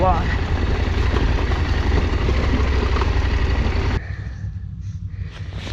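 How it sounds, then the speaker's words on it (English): A KTM 890 Adventure motorcycle engine braking in first gear on a rocky descent, a steady loud drone with wind rush that drops to a quieter rumble toward the end. "Engine brake, the first gear doesn't slow this down a whole lot."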